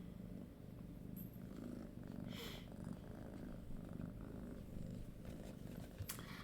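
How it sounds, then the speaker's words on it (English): A domestic cat purring in a quiet room, a soft, steady low rumble that continues unbroken throughout, close by but faint, with no talking over it. "Can you hear the cat purring?"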